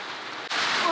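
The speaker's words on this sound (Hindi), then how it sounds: "ओले ओले पड़ रहे, बर्फ ही हो गई है, तो बर्फ ही पड़ रही है।" Hail pattering steadily onto an outdoor surface in India, a dense, hissing rain-like patter that swells louder partway through.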